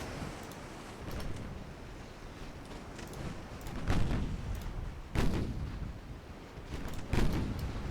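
Naval artillery fire from warships in the Ultimate Admiral Dreadnoughts naval game at night, with several heavy booming shots spaced a second or two apart over a steady rumbling sea-like background.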